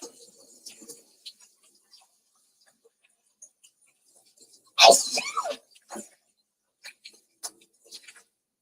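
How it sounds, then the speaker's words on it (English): A person sneezes once, sharp and close, while eating spicy tikka masala sauce with peppers, with faint ticks and small clicks scattered around it in an otherwise quiet room. "so the peppers are making me sneeze"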